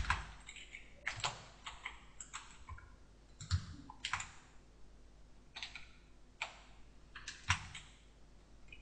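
Computer keyboard clacking as HTML start and end tags are typed, in uneven bursts of close, crisp keystrokes separated by short pauses, with no talking.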